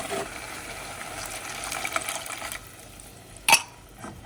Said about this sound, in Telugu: ఇప్పుడు ఇందులో గ్రైండర్లోనే వాటర్ వేసి అందులో వేసేద్దాం.